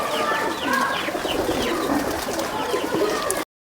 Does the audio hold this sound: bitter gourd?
no